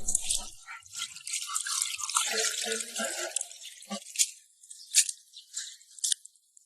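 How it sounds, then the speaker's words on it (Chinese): Fish offal being rinsed under running tap water in a kitchen sink, with splashing and a brief flow, then scattered drips and light clinks, fairly quiet and close. "夹好之后给它冲洗干净捞出来。"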